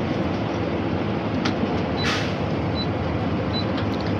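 An LRT light rail train rolls past at the Makati–Pasay boundary, giving a loud, steady rumble and rush that holds for several seconds, with faint high squeals over it.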